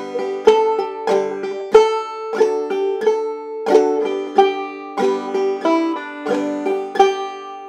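Clawhammer banjo picks out the closing four measures of a tune, bright plucked notes and strums falling in a steady rhythm, close and clear with no voice.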